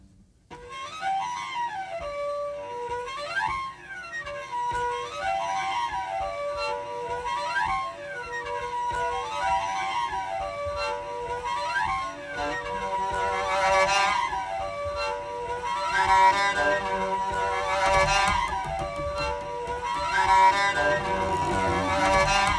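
Bowed string riffs on upper harmonics, rising and falling in quick repeated arcs over a low droning bed that swells louder toward the end, heard close and continuous with no voices.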